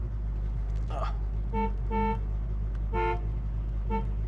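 Horn of a 1970 Ford Mustang Mach 1 sounded in a run of short honks, some clipped and some slightly longer, repeated at uneven intervals over a steady low engine-idle rumble.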